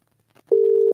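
A single steady telephone tone sounds on the line for about half a second, clear and unbroken, after a brief soft noise, as a call waits to be answered.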